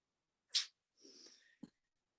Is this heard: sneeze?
yes